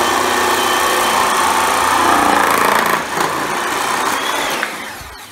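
A reciprocating saw from a DeWalt and Milwaukee hybrid build cuts into wood with a loud, continuous buzzing rasp that holds steady, falters briefly, then carries on before winding down at the end.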